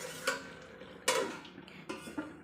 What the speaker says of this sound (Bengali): আর আমি রান্না করছি মাংস এই যে মাটন রান্না করছি